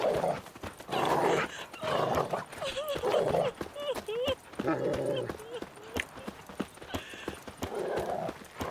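A dog barks repeatedly in The Witcher 3: Wild Hunt as it charges a zombie, sharp yelps mixed with galloping hooves, horse whinnies and combat noise.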